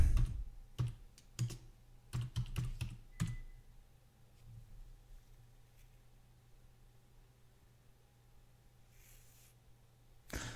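Several quick bursts of keystrokes on a computer keyboard as a terminal command is entered, close and fairly clear, then a quieter stretch with faint background hum.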